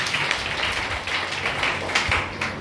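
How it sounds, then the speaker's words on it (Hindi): An audience at a DXN company gathering claps together for kombucha in a steady, sustained round of applause that fills the room, with no voices over it. "एक बार जोर से ताली कंबुचा के लिए"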